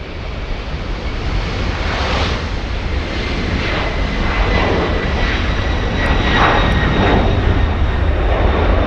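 A Lufthansa jet airliner roars at LAX airport, a loud, sustained broadband engine rush that swells slightly toward the end, heard alone without talk.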